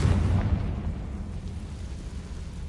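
In Hogwarts Legacy, a Confringo fire spell bursts in a dull, low rumbling explosion that fades out over a couple of seconds, moderately faint and with no voices.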